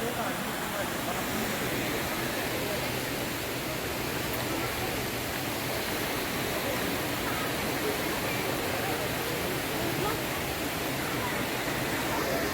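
Seethar Kundu waterfall at Kollengode gives off a steady, unbroken roar of falling water that stays evenly loud from start to finish.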